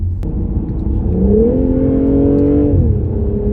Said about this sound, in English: I put it into sports, and I just detected the car just kind of leap forward just slightly